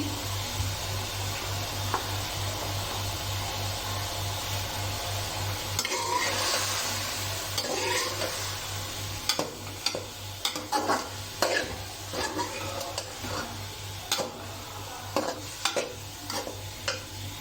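Onions sizzle in a pan of hot oil as part of a keema karela recipe, with steady frying hiss and repeated scraping stirs from a spoon growing more frequent in the second half, close and without talk.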